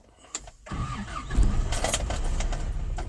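A 1980s fourth-generation Toyota Hilux 4x4 pickup cranks briefly, then its engine catches and settles into a steady, close idle.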